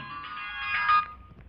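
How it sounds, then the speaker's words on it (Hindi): An incoming call sets a phone ringing, a single short electronic ringtone phrase that swells briefly and then stops, fairly quiet, with no voices over it. "इसके बाद में और जो है फोन आ रहा है हमारा, एक मिनट हम अटेंड कर लें।"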